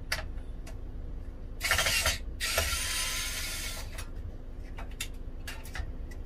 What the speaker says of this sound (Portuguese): tem que tirar esses três parafusos aqui